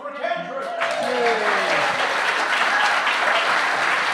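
Audience applause at a live folk concert at Old Songs, a dense crowd clapping that starts as the last sung notes fade and then holds steady and loud, with a brief voice at the opening.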